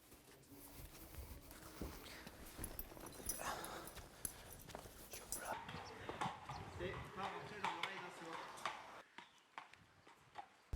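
Horse hooves clip-clop during a jockey's morning ride, with a steady rhythm of hoof strikes heard under someone talking, and a dog whimpering at times.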